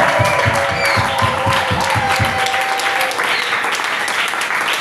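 A church congregation at a French-language service breaks into loud, sustained applause, a dense wash of many hands clapping at once, with faint voices and tones underneath.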